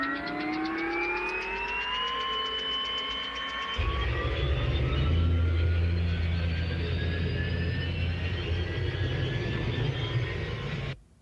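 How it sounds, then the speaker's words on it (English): Jet Ranger helicopter startup pitched down an octave to make an alien machine sound for a War of the Worlds game: a rising turbine whine with steady climbing tones, then a heavy low rumble joining in, loud and continuous before cutting off. "So we do have a like a Jet Ranger helicopter starting up sound in here."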